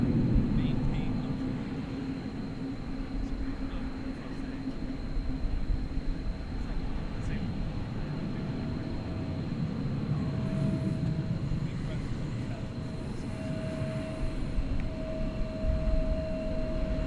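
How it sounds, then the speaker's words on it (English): An American Eagle airliner on the runway at DFW Airport at night, a broad steady jet engine roar rumbling through the whole stretch at moderate distance, with a faint tonal whine and speech under it. "there's an American Eagle plane queued up for takeoff"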